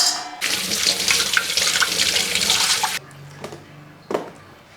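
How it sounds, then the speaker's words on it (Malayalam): Water runs and splashes in a kitchen as raw plantain pieces are washed, a steady close gush for a few seconds that then stops, followed by a few soft clinks and drips. "വെള്ളത്തിനകത്തിട്ട് നമുക്കൊന്ന് കഴുകിയെടുക്കാം"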